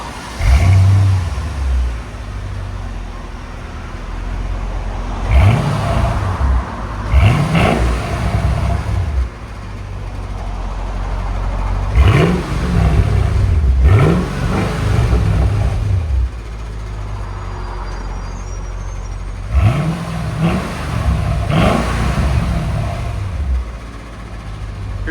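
2006 Mercedes S55 AMG with its 5.5-litre supercharged V8 and resonator delete, blipped in pairs of deep rumbling revs that rise and drop back to a low idle burble, repeated several times, close and loud without speech.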